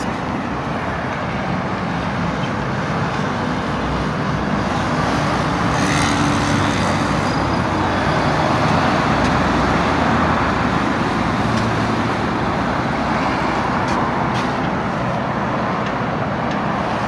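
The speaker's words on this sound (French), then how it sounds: "La circulation abidjanaise." Continuous road traffic in Abidjan, Côte d'Ivoire, a steady dense roar of cars, buses and trucks passing close by with no pauses and no talk.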